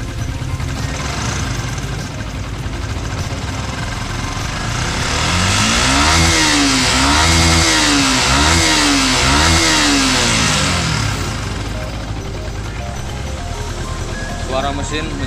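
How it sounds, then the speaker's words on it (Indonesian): A motorcycle engine runs steadily after an additive is injected, and is then revved a few times in a rising and falling rhythm before settling back. It is loud and close, with a broadband noisy tone throughout. "Suara mesin menjadi lebih halus."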